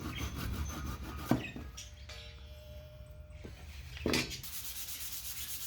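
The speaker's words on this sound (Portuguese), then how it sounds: "cortei a peça da lateral usando serrote Ryoba, com um bloco guia para cortar o mais reto e fino possível" Wooden side piece for a small chest being cut with a Japanese Ryoba pull saw guided by a block: a steady, close rasping scrape runs throughout, with two brief louder bursts and no talk.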